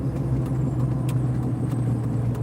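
Road traffic rolling past a drive-in entrance, a continuous loud car rumble with a steady low hum close by, no voices over it.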